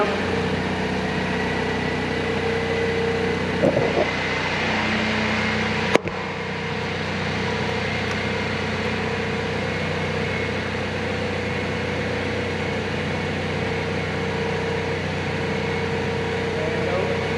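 A turbocharged DT466 diesel fitted in an M35 military truck idles in a steady low rumble with a faint turbo whine over it. There is a short clatter partway through and a sharp knock soon after, while voices talk nearby.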